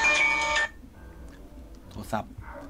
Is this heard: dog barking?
no